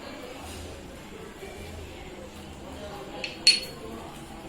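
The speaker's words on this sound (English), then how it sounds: "I'll put now coriander. Now I will mix it well." Egg vermicelli is stirred with coriander in a pan, giving quiet, faint scraping under low background noise and then a couple of sharp metallic clinks near the end.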